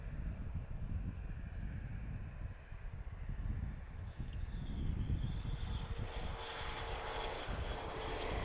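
Distant engine rumble from an airplane taking off at a busy cargo airport, faint and steady, swelling slightly toward the end.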